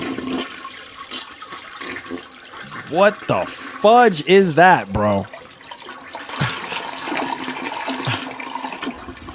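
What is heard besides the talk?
toilet flush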